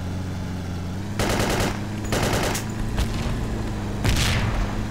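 Automatic gunfire from the video game Battlefield 2 Project Reality, with insurgents chasing a supply truck: three rapid bursts and a later single shot, loud over a constant engine drone, with no voices.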